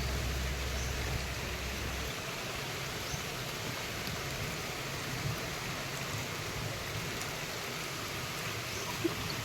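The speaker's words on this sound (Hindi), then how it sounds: "यहाँ पे बारिश होने लगी है।" Rain falling outdoors as a soft, steady hiss, fairly faint and continuous, with no voices.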